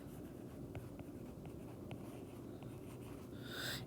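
A pen scratches across paper in short, soft strokes, quiet and close, with brief pauses between marks.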